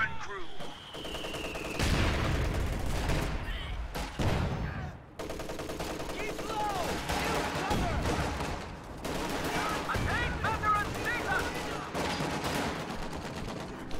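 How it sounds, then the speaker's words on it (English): Gunfire and light artillery barrage in a WWII strategy video game, dense ongoing battle with crackling rifle and machine gun bursts and booming impacts, a faint whistling shell near the start, steady and loud throughout. "taking a lot of damage from indirect fire, plus light artillery barrage falling in the area"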